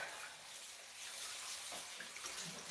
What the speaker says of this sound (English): Now I'm going to rinse away all the stuff.